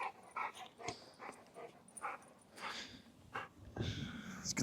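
Javal the dog gives a few short barks and snorty huffs at close range, irregular bursts separated by brief pauses.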